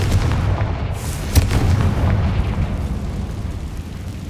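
A Confringo fire spell blasts in Hogwarts Legacy, a sharp burst standing out near the middle over a loud, dense rumble of game noise that carries through the whole stretch.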